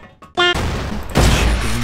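Gunfire from the CrossFire video game, with loud booming shots and a dense burst of fire that keeps going steadily for the rest of the moment.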